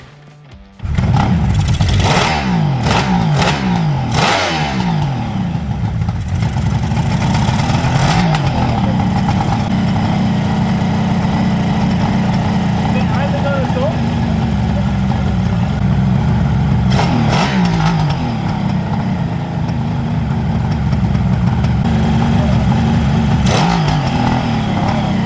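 Kawasaki H2 750 three-cylinder two-stroke motorcycle starting up after carburetor, idle screw and pilot jet work, then running loud and close with uneven revving and a raspy, steady idle.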